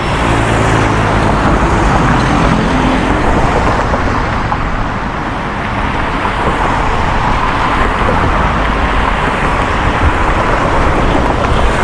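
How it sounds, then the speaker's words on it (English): Steady traffic on a busy Bangkok road beside a bus rapid transit lane, with cars and motorbikes rolling past in a continuous loud roadway wash that dips briefly midway, no voices over it. "And another car."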